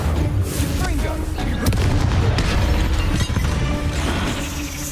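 Bombarda, the explosion spell in Hogwarts Legacy, goes off in dense, booming blasts with crashing debris, loud and sustained across the whole stretch.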